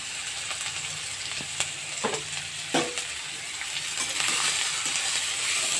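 Potato peels frying with a couple of slit green chillies in a pan: a steady close sizzle with a few scraping stirs and light clinks of the spatula, growing slightly louder near the end, no talking.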